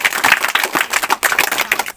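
A classroom audience of children claps loudly for a correct answer in a quiz, a dense burst of applause filling the whole stretch with brisk, uneven rhythm.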